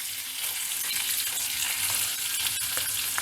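Green chili paste ground with coconut and salt frying in a pan over cooked onions, a steady close, even sizzle with faint stirring scrapes and no voices.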